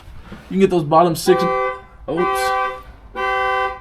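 A Lexus SC400's car alarm sounds in a garage during a manual transmission swap: a burst of warbling chirps, then two sustained, loud horn-like tones with brief gaps between them.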